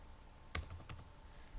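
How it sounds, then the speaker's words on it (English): A Control C shortcut is pressed on a computer keyboard, a couple of sharp close key clicks in quick succession, then quiet. "I'll do Control C on my keyboard"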